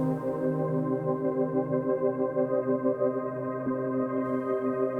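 Sustained synth lead from an Elektron Digitone run through a Hologram Microcosm effects pedal, a steady layered drone of stacked harmonic tones, loud and continuous with no voices.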